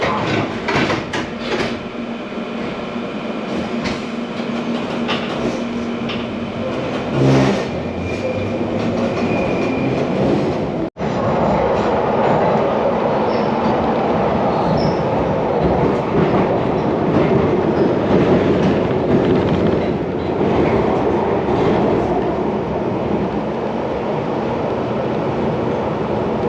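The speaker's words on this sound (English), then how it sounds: "This is a Bakerloo line train to Elephant and Castle." A London Underground Bakerloo line train rumbles steadily, loud and close, with rail clatter and a brief sharp click near the middle, at Elephant and Castle.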